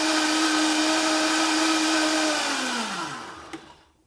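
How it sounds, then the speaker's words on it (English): A blender whirs steadily as it blends coconut milk in a home kitchen, a loud continuous motor drone that winds down and stops near the end, followed by a faint clunk. "I'm going to blend this until it gets very nice and smooth."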